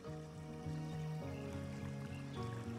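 Creek water flowing steadily in the Bluey video game, a soft continuous trickle heard close and alone beneath a quiet looping musical backing.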